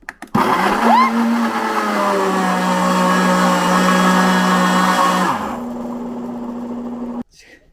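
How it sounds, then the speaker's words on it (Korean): A blender on grind mode pulverizes ingredients for energy protein balls, starting abruptly with a loud steady motor roar and rising whine, then dropping to a lower hum before cutting off near the end. "그래서 이 그라인드 모드로 전 설정을 해서 할 거고"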